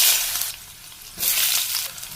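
Potatoes are added to hot oil with cumin seeds, giving bursts of loud close sizzling that fade and then surge again, with no talking.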